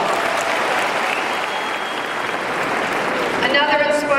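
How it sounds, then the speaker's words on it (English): An audience at a university commencement ceremony breaks into sustained applause, a dense, even roar of clapping from a large crowd, with a voice emerging near the end. "Would you give them a round of applause?"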